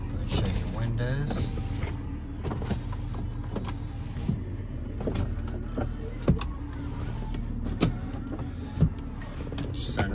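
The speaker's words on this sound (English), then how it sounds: "Go ahead and show your windows." Power windows on a 2003 BMW 330xi running up and down inside the car, repeated whirring motor strokes that end in soft thuds, close and fairly quiet, with a voice speaking at moments.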